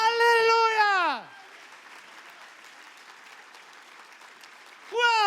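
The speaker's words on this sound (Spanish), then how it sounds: "ese aplauso tiene que hacer tronar los cielos" A church congregation applauds after a sermon, a soft steady wash of clapping in the middle, framed by strong sustained voices shouting or singing at the start and end.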